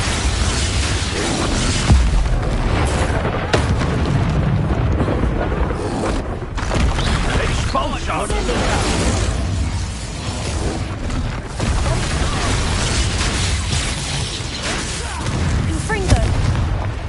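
Repeated magical blasts of the Expulso explosion spell in the Hogwarts Legacy video game, dense booming bursts overlapping continuously amid game music and effects, loud and close throughout, with voices heard among the chaos.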